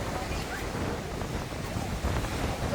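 Strong gale on Teignmouth seafront, steady broadband wind roar buffeting the microphone with surf washing beneath, continuous and loud for the whole stretch.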